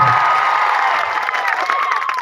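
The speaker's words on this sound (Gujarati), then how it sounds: "જોરદાર તાળીઓ થઈ જાય" A large crowd at a political gathering clapping and cheering, with a steady roar of applause, shouts and whoops sustained throughout.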